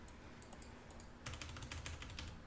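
Computer keyboard keys pressed in a quick run of clicky taps during a robot-programming session, close and moderately loud over a steady low background hum, no voices.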